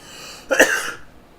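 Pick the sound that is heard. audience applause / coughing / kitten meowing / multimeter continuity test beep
coughing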